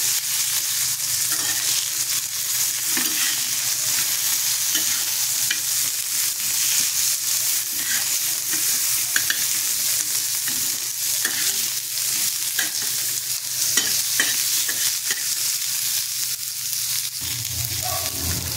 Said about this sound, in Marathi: आता हे आपल्याला छान ह्याच्यावरती सॉफ्ट होईपर्यंत परतून घ्यायचे.